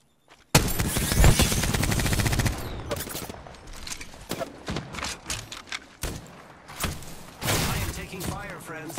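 Sustained automatic gunfire in the battle royale shooter Apex Legends, a loud close barrage that starts abruptly then breaks into shorter bursts and scattered shots, with a player talking over the action.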